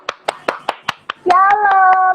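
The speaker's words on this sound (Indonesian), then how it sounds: "Kita sambut dengan tepuk tangan yuk" About seven sharp, evenly spaced claps from a single person nearby, then a voice takes over with a sustained sung or spoken tone while one or two claps continue.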